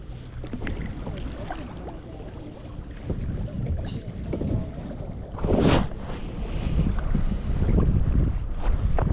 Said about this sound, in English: actually have a good bit of wind today.